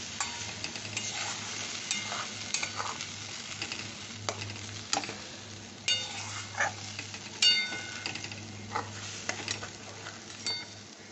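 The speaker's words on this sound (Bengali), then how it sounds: "এবার একটা কষে নেবো ভালো করে কষতে হবে" Mutton keema stir-fried with spices in a pressure cooker, a soft steady sizzle under repeated scraping strokes of a spatula against metal, moderately quiet and close.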